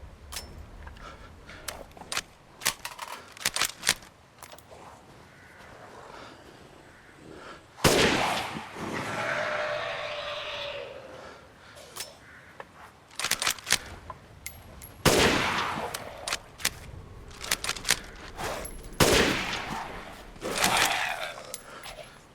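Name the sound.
dual-wielded gunfire in Resident Evil Village VR video game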